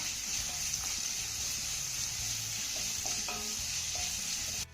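Finely chopped onion sautéing in a pan, a constant bright sizzle with occasional light clinks and stirring scrapes of a utensil, heard up close with no voices.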